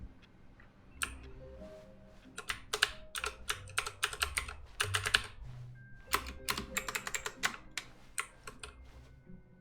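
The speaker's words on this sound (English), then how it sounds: "The keyboard is so loud." Computer keyboard typed on close to the microphone, loud clattering bursts of keystrokes in quick irregular runs with short pauses between them.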